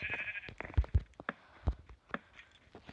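Sheep bleating in Minecraft, several short bleats in a row, close and clear, mixed with light footstep-like taps and no talking.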